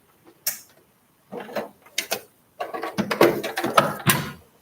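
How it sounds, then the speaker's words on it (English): A home sewing machine that is acting up stitches a boxy bag in stop-start bursts: clattering, ticking mechanical runs, loud and close, separated by short pauses. "I'm going to sew a little bit on this one."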